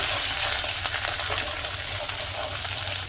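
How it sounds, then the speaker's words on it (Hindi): Crushed garlic and green chillies fry in hot oil for a Methi Aloo dish, a steady, close, bright sizzle running throughout with faint crackles and no talking. "तो हरी मिर्च और लहसुन हमारे भून चुके हैं"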